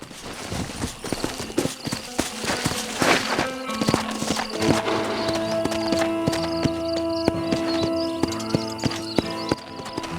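Horse hooves clip-clop in the Red Dead Redemption video game, with repeated sharp steps and a neighing whinny, loud and close against game music and ambience, no talk.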